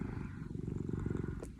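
A kitten cuddled up close purrs in a soft, steady rumbling rhythm, faint and continuous with no talking over it.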